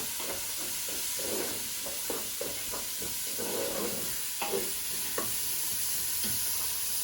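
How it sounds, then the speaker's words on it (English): Bacon pieces and garlic stirred in a pot for beef stew, a soft, low sizzle under rhythmic scraping strokes as stuck bits are worked off the bottom, fairly quiet, without speech. "I'm going to try and get them off and use all of that and mix it together"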